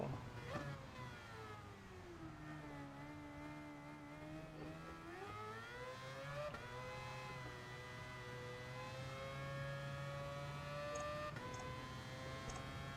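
A race car engine in a racing video game on its final lap, revving in a steady, rising whine that climbs and holds, faint and continuous throughout with no talk.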